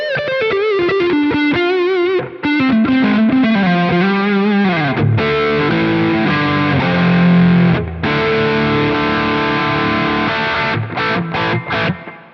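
A PRS SE NF3 electric guitar with single-coil pickups plays through light gain and chorus-like effects, with strummed chords and ringing single notes up close, bright and clear with tight low strings.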